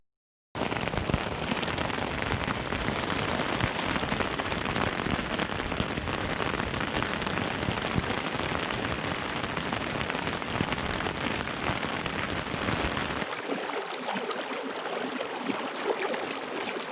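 Heavy rain from a storm in the White Cloud Wilderness pours down in a dense, continuous wash, probably drumming on a tent, loud and steady for the whole stretch without a pause.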